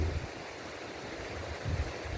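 A shallow, clear, swift river runs over many rocks beside rice fields and coconut palms, giving a steady close rushing wash with low gurgling swells.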